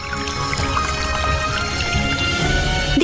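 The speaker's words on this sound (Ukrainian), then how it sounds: "Потрібно просто налити в цю колбу трохи води." Water pours steadily into a flask, a continuous bright trickling gush with faint ringing tones, close and uninterrupted.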